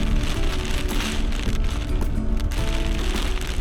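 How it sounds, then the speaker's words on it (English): Hail mixed with snow falling during a summer storm in Tasmania, a steady dense patter of hard pellets striking surfaces, loud and continuous for the whole stretch without pause. "Got hail,"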